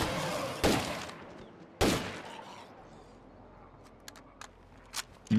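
Gunfire in a multiplayer war video game, two loud sharp broadband shots roughly a second apart, followed by fainter scattered pops and clicks over a quiet ambient background.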